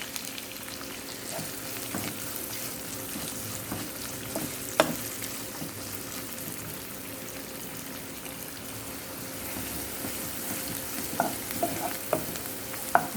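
Onions, green chilies and curry leaves fry in hot oil in a pan for a spicy chicken curry, giving a continuous close sizzle with a few sharp pops and faint utensil taps and no speech.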